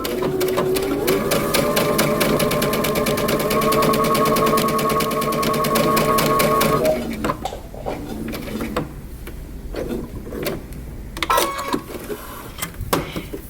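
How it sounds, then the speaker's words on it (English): A sewing machine runs steadily for about seven seconds, sewing a row of basting stitches on a long coat, then stops and leaves quieter handling clicks and rustles of fabric. "And then you're going to create another row of basting stitches 1/4 inch away from the existing stitching"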